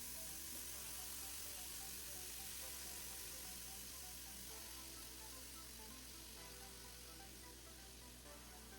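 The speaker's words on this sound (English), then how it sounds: "You can hear them sizzling away." Ground beef sizzles steadily in a hot air fryer, a continuous broadband crackle and hiss, close and even in level throughout with no talking.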